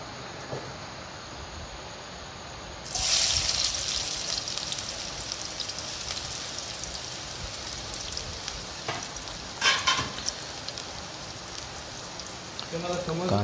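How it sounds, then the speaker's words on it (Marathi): Onions drop into hot oil and erupt into a loud, bright hiss that settles into a steady, rain-like sizzle with occasional louder crackles, close by. "कांदे आपल्याला ब्राऊन होईपर्यंत फ्राय करायचे."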